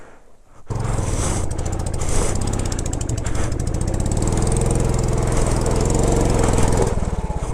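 A motorcycle engine roars steadily and loudly close by as it climbs a rough mountain road toward Sandakphu through Nepal, the strained, rattling tone holding for several seconds after a short quiet start.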